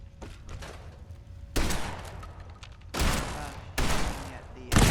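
Turret gunfire in Fallout 4, a few loud sharp bursts spaced a second or so apart over low background noise, with a voice speaking between them.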